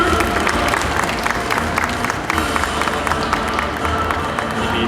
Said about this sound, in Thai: ขอเสียงปรบมือให้ด้วยนะคะ